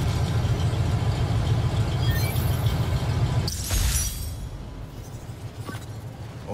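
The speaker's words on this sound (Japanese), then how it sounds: "これか。 エンジン音か。" Idling car engine at a police station in Marvel's Spider-Man: Miles Morales, a steady low rumble for several seconds, then a sharp clattering burst and a quieter hum with faint clinks.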